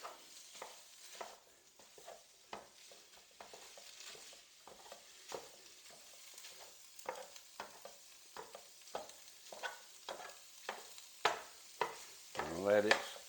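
Ground beef frying in a pan and being broken up with a utensil, a quiet sizzle under a steady series of scraping, chopping strokes that grow louder and busier toward the end.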